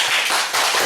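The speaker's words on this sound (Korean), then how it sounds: "고마우신 예수님께 박수 한번 쳐요." A church congregation claps together during a sermon, a brief dense burst of many hands with a short dip midway, loud and close.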